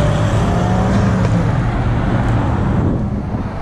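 A Subaru STI drives past at a supercar show, its steady engine and road roar loud and close throughout, with faint wind buffeting and no talk.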